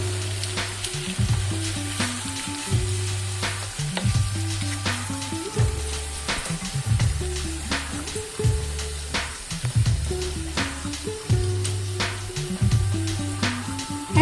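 Chopped tomatoes fry in a pan for a chitol fish curry, a steady loud sizzle broken by rhythmic scraping strokes of stirring, with no speech.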